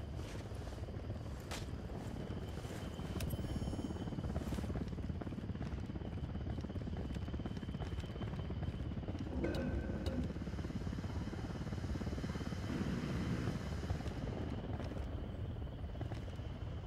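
A helicopter approaches in Ghost Recon Wildlands as a steady, continuous rotor roar that holds throughout.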